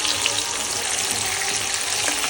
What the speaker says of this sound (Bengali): আর এদিকে আলু ফ্রাই হয়ে যাচ্ছে।